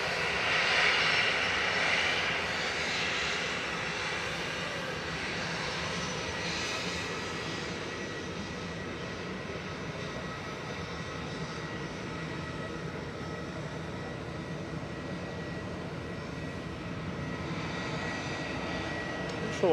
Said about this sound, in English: And this is EasyJet to Lisbon.